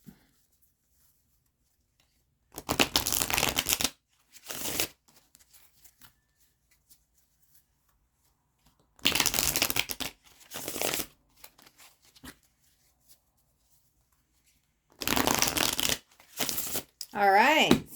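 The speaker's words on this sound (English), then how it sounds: "let me shuffle this deck up." A deck of tarot cards is shuffled in three separate bursts of quick riffling and flicking, close and crisp, with stretches of silence between them and a brief voice at the very end.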